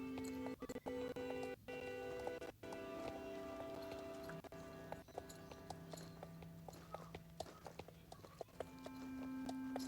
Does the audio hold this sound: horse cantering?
yes